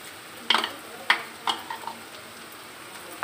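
Minced chicken sautés with garlic, onion, salt, black pepper and mushroom stock in a pan. A soft background sizzle is broken by a few sharp scrapes and stirring clatters, with no voices.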